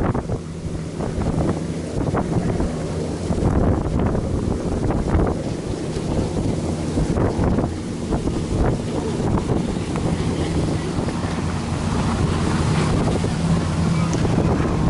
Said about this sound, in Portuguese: Umas lanchas de alta velocidade aí